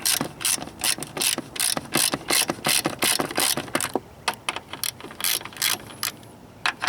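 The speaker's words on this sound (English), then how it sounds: "you loosen those bolts like that" A ratchet clicks in quick bursts while strut bolts on a 1996–2007 Ford Taurus are loosened, close and crisp, the rapid clatter thinning into sparser single clicks toward the end.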